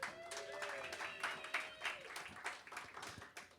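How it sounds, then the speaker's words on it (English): An audience at a live music show in Houston claps in a round of applause, heard faint and somewhat distant, the scattered claps overlapping a soft tonal background. "Give her a round of applause."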